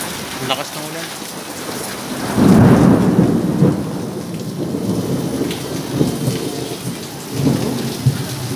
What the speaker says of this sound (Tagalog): Naulan. Lakas ng ulan guys.